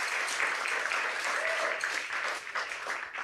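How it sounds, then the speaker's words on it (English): An audience at an evening event gives a steady round of applause. Many hands clap evenly at moderate volume for a few seconds before it cuts off at the end. "So let's just give Navigator a round of applause."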